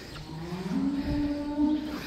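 Dairy cow in a barn gives one long, loud, steady moo that carries for about two seconds.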